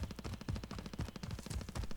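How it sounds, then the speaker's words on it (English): Rapid automatic gunfire in a military video game, a dense continuous rattle of shots for two seconds, fairly distant and muffled in the game mix. "Gunshots here."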